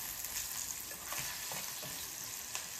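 Asafoetida and red chilli tempering in hot oil for little millet lemon rice, crackling in a dense, continuous sizzle up close, with a few soft stirring scrapes and no speech.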